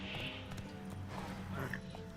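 A horse gallops in the video game The Witcher 3, with quick rhythmic clip-clop hoofbeats at moderate volume while a person talks over them.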